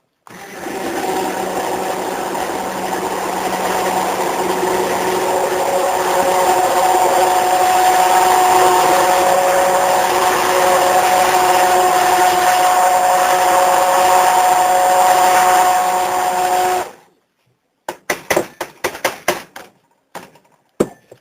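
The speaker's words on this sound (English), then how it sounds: "dump it back into your blender and blend it up" A blender purees potato soup, its motor running loud and steady for about seventeen seconds before cutting off, followed by a few clattering knocks.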